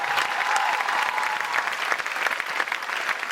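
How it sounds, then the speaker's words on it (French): An audience at a comedy festival breaks into dense, sustained applause, loud and close, with a scattering of cheers over the clapping. "faites-lui plein d'applaudissements"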